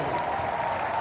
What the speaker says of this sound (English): And Seddon Park stand and applaud.